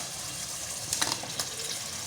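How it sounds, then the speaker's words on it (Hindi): Potatoes fry in a pan for an aloo matar gosht curry, giving a steady close sizzle with a brief burst of stirring and scraping near the middle. "और आलू को तकरीबन 2 से 3 मिनट अच्छी तरह से भून लेंगे"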